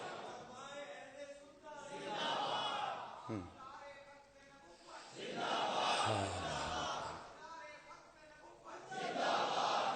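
A child leads a crowd chant: a single voice calls out and a large crowd roars back in swelling, repeated waves of shouted response.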